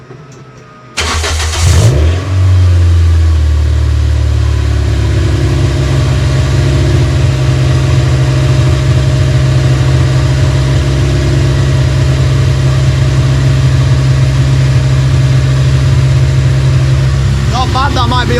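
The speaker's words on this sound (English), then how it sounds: "This is going to be the first start with the new exhaust." A Toyota MR2 with a 2ZZ engine fires up on a freshly fitted exhaust: a brief crank, then the engine catches and settles into a loud, steady, rumbling idle that runs close by for the rest of the clip.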